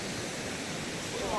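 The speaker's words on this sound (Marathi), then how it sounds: "छानशा अशा धबधब्यावरती" A waterfall on a river at Napne in Vaibhavwadi, Sindhudurg, gives off a dense, even roar of rushing water that fills the scene without a break.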